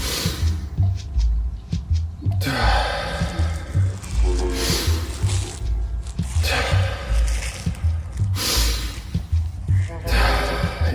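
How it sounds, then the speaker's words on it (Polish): Slow, deep breaths in and out, each long airy exhale rising and fading, repeated several times close to the microphone. "I zrób spokojny wdech i wydech."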